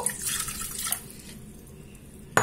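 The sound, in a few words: water poured into a food processor bowl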